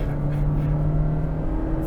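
A 2023 Honda CR-V with a 1.5 liter turbo and CVT accelerates at full throttle, a steady close engine drone with a constant tone, no voices over it.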